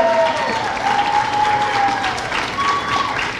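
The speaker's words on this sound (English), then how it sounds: "can we just give Logan a round of applause?" Audience applause for Logan, a volunteer who played interlude music at a high school spring choir concert, a steady dense roar of clapping filling the hall, with a few voices and a faint tone riding over it.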